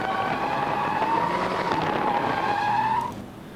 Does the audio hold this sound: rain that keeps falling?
no